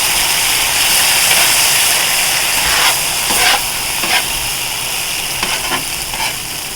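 Chicken meat and vegetables fry on a flat top griddle outdoors, a steady loud sizzle with scattered scraping and stirring clicks from a spatula.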